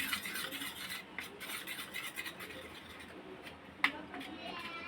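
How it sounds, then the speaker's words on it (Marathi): Vanilla custard powder being stirred into milk for an almond milkshake, giving a steady soft scraping rasp of a spoon against the container that runs throughout, with a brief sharper clink near the end and faint background noise. "मी दोन चम्मच एवढी व्हॅनिला फ्लेवरची कस्टर्ड पावडर घेतलेली आहे ती छान अशी मिक्स करून घ्यायची या दुधात"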